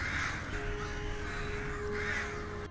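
Crows near a fallen tree give repeated harsh caws, two strong bursts separated by a pause, over a dense, loud, noisy ambient background.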